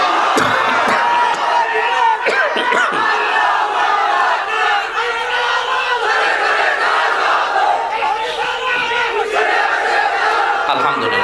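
A large crowd at an open-air Islamic sermon roars a loud chant in unison in answer to a call, the massed voices swelling and rolling on continuously with scattered shouts.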